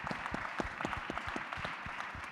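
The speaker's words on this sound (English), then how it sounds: "So please give our panelists a round of applause." An audience at the Global Cybersecurity Forum 2022 claps for the panelists after a session, a modest, fairly distant round of applause with individual claps distinct, steady throughout.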